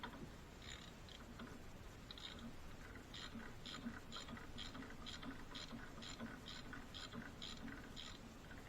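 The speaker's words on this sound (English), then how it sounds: "What I do is I just seat it back down with the" A hand socket ratchet seating a part during servicing of a farm wagon, making a run of rapid, faint clicks over steady background noise.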